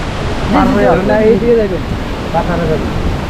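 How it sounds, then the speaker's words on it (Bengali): Rushing waterfall at Jaflong in Sylhet, a steady broadband roar of falling water heard from nearby while people talk over it. "ঝর্ণা তো ওই পাশে"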